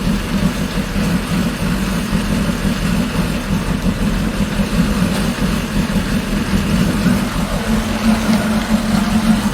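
A smoky, misfiring GMC truck engine, just started with the key after sitting unused, idles with a steady low rumble and uneven hiccups, close and loud throughout.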